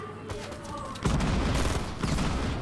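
Gunfire in Fortnite, a burst of rapid shots that grows louder after the first second into a dense, sustained volley, with no talking.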